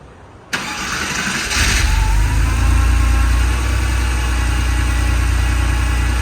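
A 55k-mile 1989 Porsche 911 Carrera coupe cold-starts with a quick crank, then the engine catches and settles into a loud, steady, rumbling idle close by.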